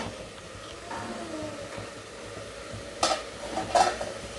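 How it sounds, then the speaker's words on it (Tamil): Ingredients sautéing in a pressure cooker pan for cashew mutton biryani, a low steady sizzle with a few clattering stirs and utensil scrapes toward the end, nobody speaking. "இது எல்லாமே ஓரளவு நல்லா வதங்கட்டும்."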